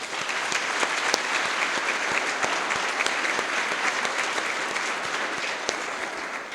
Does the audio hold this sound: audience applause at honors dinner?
yes